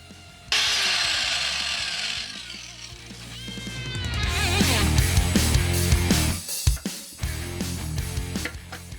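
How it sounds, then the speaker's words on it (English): A power tool deburrs the cut end of a brake cable during a rear disc brake conversion on a third-generation 4Runner, a loud close grinding whine that shifts in pitch and sputters near the end. "I'm going to push that inner cable in a little bit. That way I can then deburr the end of it."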